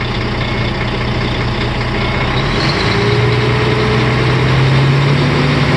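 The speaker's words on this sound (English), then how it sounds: "Once it stabilizes, I'm going to rev the engine." A truck's engine runs loud and near in the cab, idling and then rising in revs about halfway through to drive the air compressor and build air pressure, with a steady low rumble throughout.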